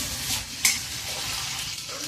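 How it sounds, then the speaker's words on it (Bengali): Cauliflower florets frying in oil in a pan for vegetable khichdi, a steady soft sizzle with a light stir and a brief utensil clink near the middle, close and alone without talk. "ফুলকপিগুলো ভাজা হয়ে গেছে,"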